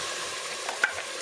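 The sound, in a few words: green masala frying in hot pan for prawn biryani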